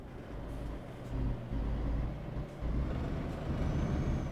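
A truck downshifting inside a tunnel in Euro Truck Simulator 2, with a deep reverberant engine rumble that dips and surges as the gear changes, steady and close.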